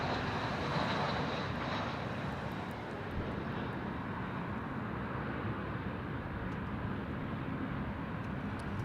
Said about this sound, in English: Jetstar 520 from Melbourne,